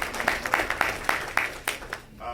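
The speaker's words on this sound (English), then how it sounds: "feel free if you want to clap for Ruth" Audience clapping at a law school symposium, a series of short uneven bursts over about two seconds, fairly faint and thin as if from a modest crowd in a lecture hall.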